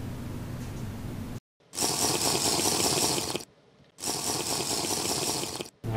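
Castrol Activo 10W40 motorcycle oil pours into a Suzuki GT550 two-stroke triple engine, heard as loud close glugging streams in several bursts broken by short silent gaps.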